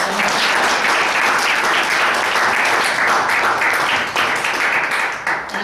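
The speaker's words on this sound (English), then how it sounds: "let's give a huge round of applause to Sharon Price." A lecture audience applauds after a talk on court-connected mediation, with dense, sustained clapping that fills the room and fades slightly at the end.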